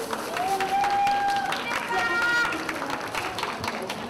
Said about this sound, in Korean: 우리 8번 선수 장식 잘 하라고 격려의 박수 한번 부탁드리겠습니다